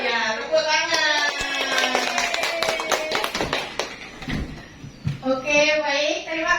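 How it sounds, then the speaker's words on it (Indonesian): Schoolchildren at an elementary school clap their hands in a counted pattern, giving sharp, rhythmic bursts of claps between stretches of chanting children's voices, with the clapping clustered in the middle. "tepuk tangan"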